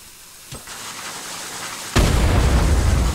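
An explosion goes off in Fortnite Battle Royale: a small pop, then a loud, sudden blast whose booming roar rolls on and fills the rest of the moment.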